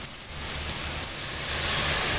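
Steady rain falls outdoors as a dense, even hiss, with faint low rumble from traffic on a wet road beneath it, continuous throughout and no voices.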